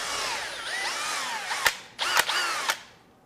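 A power drill bores a hole for a walleye taxidermy mount, whining with rising and falling pitch for a few seconds, then stopping and restarting in short bursts.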